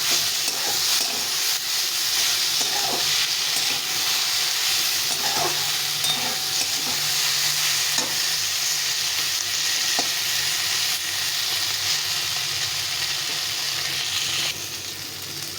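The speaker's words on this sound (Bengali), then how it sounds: "দিয়ে এর সঙ্গে ভালো করে ভেজে নিতে হবে" Eggplant fries in a pan with fish oil and fish fat, a steady soft sizzle and hiss with occasional stirring scrapes running throughout, and no talking.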